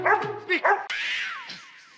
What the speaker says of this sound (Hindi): देखिए वो अभी भी भौंक रहा है।